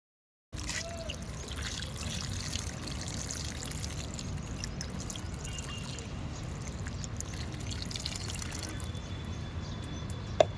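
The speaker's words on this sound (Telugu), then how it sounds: "చూడండి ఇక్కడ వాటర్ పోసేసుకుందాం" A steady stream of water pours close by into a pot of soil mix for raising seedlings in a terrace garden, lasting about ten seconds, constant and splashy, with no one speaking over it.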